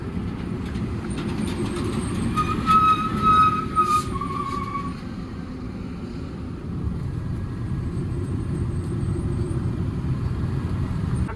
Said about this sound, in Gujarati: જો રાજસ્થાન નું ટેલર જાય છે